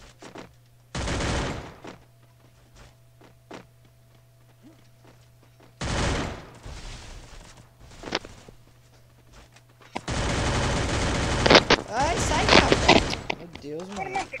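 Bursts of rapid gunfire from a video game come in three loud clusters, the last one longer and busier, separated by quieter stretches with faint footsteps and game noise.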